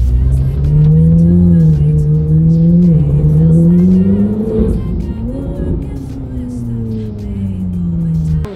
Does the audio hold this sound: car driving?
yes